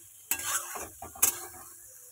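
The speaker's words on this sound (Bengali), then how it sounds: "এই পর্যায়ে নুনটা দিয়ে একটু ভালো করে হালকা করে আগে ভেজে নিই।" Salted onions fry in a pan and are stirred: two sharp scraping strokes of a utensil cut through a quiet background sizzle, with no voices.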